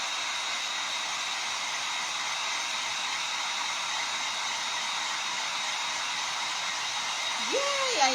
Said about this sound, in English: I'm using my heat tool just to make sure it's all dry